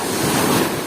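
Strong sea waves surging and crashing close by, a loud continuous roar of surf mixed with wind buffeting the microphone, with no voices.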